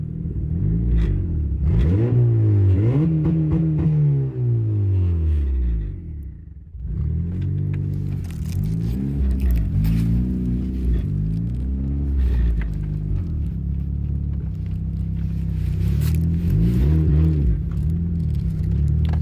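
A turbocharged Honda Accord with a K24Z3 engine revs hard while driving, its loud rumbling note climbing and falling through the gears. After a brief lift it returns to sustained acceleration, and nobody speaks.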